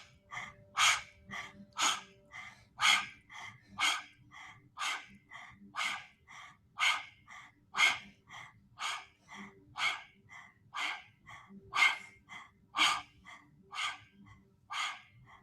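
Forceful breathing out through the mouth with the tongue stuck all the way out and down, as a meditation breathing exercise: a steady run of about seventeen breathy, panting-like exhales, close and evenly paced, with no talking.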